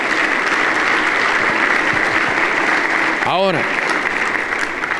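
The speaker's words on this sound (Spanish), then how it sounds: "Denle un aplauso a los que son sellados con el Espíritu Santo." Church congregation applauding at a Sunday service, a sustained wash of clapping filling the room, with a brief spoken word rising over it near the end.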